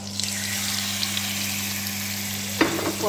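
A pan of onions sizzles steadily under a low electrical hum, then pieces of beef liver drop in near the end with a sudden louder burst of crackling.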